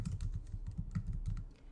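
Quiet typing on a computer keyboard, a quick run of soft, even key clicks lasting under two seconds, close and alone with no voice.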